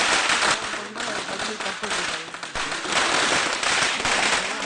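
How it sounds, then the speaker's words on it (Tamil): Firecrackers burst in a village for a celebration as a bridegroom arrives, a loud, dense, continuous barrage of rapid crackling pops with voices faintly underneath. "இப்ப எதுக்கு வெடி வெடிக்கிறானுங்க?"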